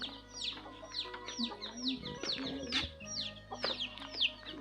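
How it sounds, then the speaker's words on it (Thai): Chickens cluck repeatedly as they file into their coop in the early evening at a small rural homestead in a mountain valley, with overlapping close calls and a steady murmur throughout. "ไก่เริ่มเข้าคอกแล้วเพราะว่า5 โมง 6 โมงมันเข้าคอกนะ"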